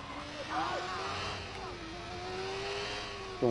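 A motorcycle engine in Watch Dogs on PS4 holds a steady, droning rev during a long wheelie, the pitch rising slightly and sagging, with a voice over it.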